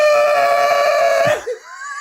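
A voice imitates a panicked snore that sounds like a goat scream: a sustained, strained, bleating cry that cracks and breaks off abruptly, loud and close.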